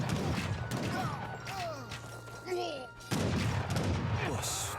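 Musket volleys from Gurkha infantry in the Age of Empires III battle game, with several crackling shots and clashing battle noise over a steady low rumble.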